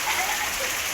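Heavy monsoon rain pouring down, a dense, loud, unbroken hiss of drops hitting surfaces close by, with no talking.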